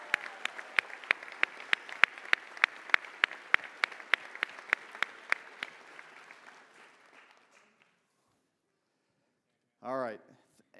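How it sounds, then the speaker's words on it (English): A graduation audience at Desert Jr. Sr. High School claps for its teachers. Steady rhythmic applause with crisp, evenly spaced loud claps lasts about seven seconds, then fades out. A brief voice follows near the end. "So please, just give them one more loud, heartfelt round of applause."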